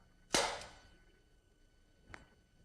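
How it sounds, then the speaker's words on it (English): A gun launches a golf ball straight up as a physics lecture demonstration: one sharp, loud bang and its fading ring, then a fainter knock about two seconds later, with no talk. "I'm going to fire the gun now."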